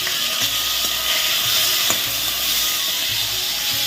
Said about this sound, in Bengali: তো দেখো এখানে আমি পটল ভাজা বসিয়ে দিয়েছি